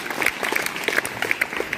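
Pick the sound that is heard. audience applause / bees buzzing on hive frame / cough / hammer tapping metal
audience applause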